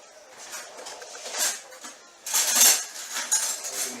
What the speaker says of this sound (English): Let's get this tasting spoon.